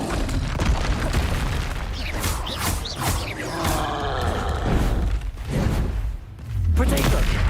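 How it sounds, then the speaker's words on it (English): Repeated Confringo spell blasts go off during a Hogwarts Legacy duel, heavy booms and crackling bursts overlapping with other spell effects in dense, continuous loud combat noise. "Confringo."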